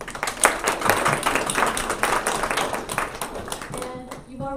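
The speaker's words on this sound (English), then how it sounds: "you've already given him a couple of rounds of applause" An audience claps steadily at a sing-through of A Midsummer Night's Dream, a dense, loud patter of many hands that fades as a speaker's voice takes over at the end.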